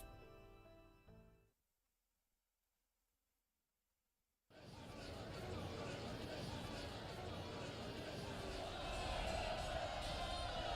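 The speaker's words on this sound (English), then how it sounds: "I hear cheering?" In a Fate/Grand Order game scene, a crowd cheers outside. After a short silence the cheering bursts in abruptly and continues as a dense, loud, steady roar of voices.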